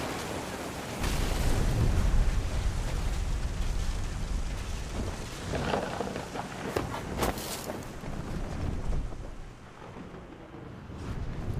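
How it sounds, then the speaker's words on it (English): Thunder in the video game What Remains of Edith Finch, a long heavy rumbling roll with rising and falling booms, loud and close, lasting several seconds before easing off. "The thunder sounded much too close and full of angry power."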